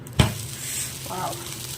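Dosa batter sizzles on a hot oiled pan at night in a home kitchen, a sharp thud at the start, then a steady close frying hiss with faint clinks.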